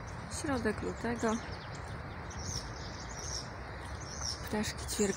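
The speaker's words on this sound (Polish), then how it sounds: "Ptaszki ćwierkają, jakby to był kwiecień" Small birds chirping outdoors in February beside brick buildings with a grass-covered roof, a few short bright calls in bursts near the start and end over a faint hiss, with a voice talking in between.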